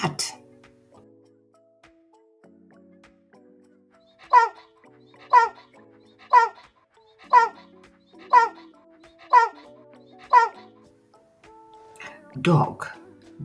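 A dog lets out seven evenly spaced barks in a steady rhythm, followed by a louder whimpering yelp, with soft murmuring in the background.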